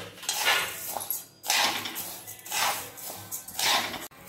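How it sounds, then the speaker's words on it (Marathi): Rice roasting in a large pot over medium heat is stirred, giving repeated dry scraping and rustling sweeps with metallic clinks, close and fairly loud, no talk. "तर 3 वाटी तांदूळ आपण भाजून घेणार आहे। मीडियम गॅसवर छान भाजून घ्यायचे।"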